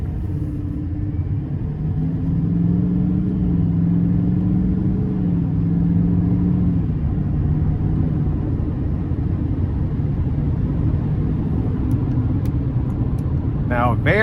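A 2024 GMC Sierra 3500HD Denali Ultimate pickup's engine rumbles and climbs in pitch as it accelerates on an interstate, steady road noise underneath, heard from inside the cab.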